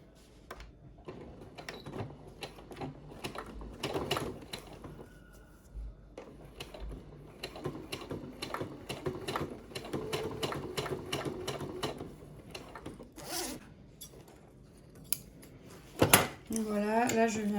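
A sewing machine runs in short, stuttering bursts while stitching a zip onto a bag, with clicks and handling noises between runs and occasional talk over it.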